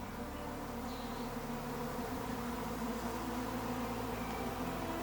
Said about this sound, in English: These bees deliver far more venom than common bees